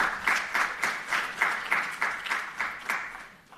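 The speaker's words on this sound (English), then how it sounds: "Please give them a round of applause." Applause from a showcase audience at an African universities innovation event, a steady rhythmic clapping with regular pulses, moderately loud and alone without talk.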